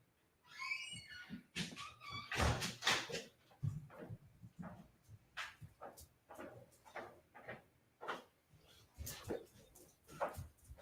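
A dog barks and whines indoors in a series of sharp, close barks with short pauses, alongside occasional clatter and knocks.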